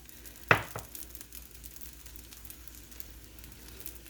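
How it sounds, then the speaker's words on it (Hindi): Paneer paratha cooking in oil on a pan, a soft steady sizzle with one sharp clatter near the start as it is flipped, quiet and close. "और इसको पलट के कुक करना स्टार्ट करेंगे ऑयल के साथ।"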